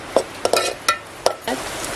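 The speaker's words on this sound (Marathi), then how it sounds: "डाळ मस्त अशी परतवून घ्यायची" Onion and chana dal being sautéed in a pan, with a spoon scraping and knocking in several sharp strokes over a light sizzle, close and clear.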